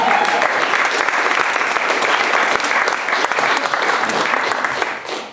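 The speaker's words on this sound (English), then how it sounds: "Round of applause." A room full of people at a literature festival applauds after a book is sold at auction, a dense, loud and steady clapping that holds throughout and starts tapering off only at the very end.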